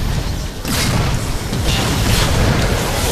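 Explosions in the video game Transformers: Fall of Cybertron, a loud, dense rumbling blast that swells after a brief dip and stays heavy and sustained to the end, with no talk over it.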